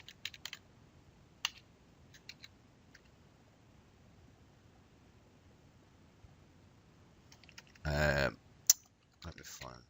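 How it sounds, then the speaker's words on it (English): Faint, sparse clicks of a computer keyboard in a quiet room, a few scattered keystrokes early on, then a quick burst of typing near the end. "I could type Gold Coast"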